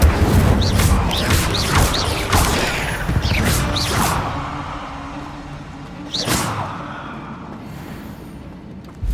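Fire spells cast in Hogwarts Legacy, a game of wizard combat, burst out as a run of sharp whooshing bangs in the first four seconds, then one more loud blast near six seconds amid lingering rumble.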